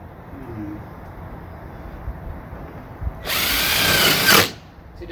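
A power drill whirs loudly for about a second, drilling holes in a Jeep Wrangler hood, rising and then cutting off, after quiet background noise.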